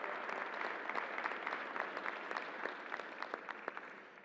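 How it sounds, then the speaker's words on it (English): An audience applauds a team at a COVID-19 pandemic briefing in the Javits Convention Center, with steady, even clapping that sounds faint and distant and carries no talk. "Let's give a round of applause to the team who made this work."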